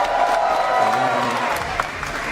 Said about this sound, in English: Huge support from the crowd